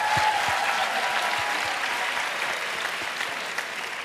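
Conference attendees at a panel session give a round of applause, steady dense clapping from a crowded room with some close individual claps standing out, holding level throughout.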